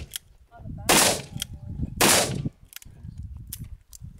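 A .44 Magnum Ruger Super Blackhawk revolver fires two loud, close, sharp shots about a second apart, followed by fainter clicks and handling noise.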